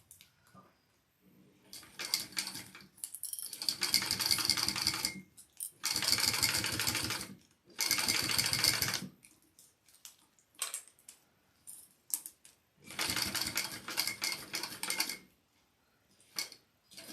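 A sewing machine stitches through a bulky bag handle in several separate runs, each a few seconds of fast mechanical whirring divided by quiet pauses and small clicks.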